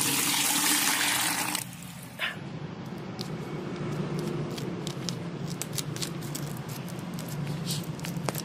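Water pouring steadily into a pesticide spray tank while mixing fungicide solution for an opium poppy field, a continuous splashing gush, with an abrupt louder rush at the start before settling into a steady flow.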